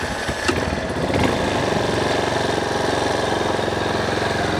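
A Honda CRF230L motorcycle engine runs steadily while being ridden, a close, continuous buzzing drone with a rougher burst near the start and no talk over it.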